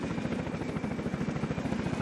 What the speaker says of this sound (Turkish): Helikopter de iyi işe yarıyor ha.